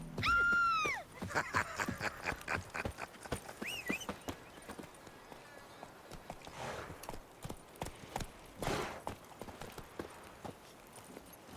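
Roach the horse's hooves clip-clop in a steady, close rhythm in a video game, after an opening neigh, with the plodding continuing alongside faint background ambience.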